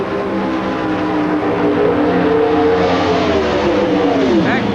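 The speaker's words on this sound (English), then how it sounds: "You can hear these race engines build the RPM" NHRA drag racing engines roar loudly and continuously at a 1987 national event, building RPM and accelerating with rising, sweeping pitch and no pause.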